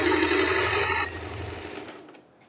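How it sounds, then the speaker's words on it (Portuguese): A sewing machine runs a line of stitching over an existing seam to form a handkerchief hem on a one-shoulder strap blouse, a steady near whir for about a second that then slows and fades to quiet. "Você vai passar uma costura em cima da costura que você já tem aqui."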